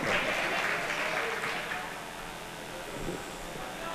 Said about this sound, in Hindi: तालियों की गूंज में इस्तकबाल करें अपने शायर